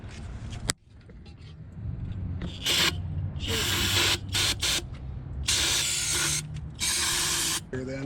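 An aerosol spray can hisses into the drive of a MerCruiser boat during a shift cable and bellows job in a parking lot, several loud bursts of varying length separated by short pauses over a low background rumble.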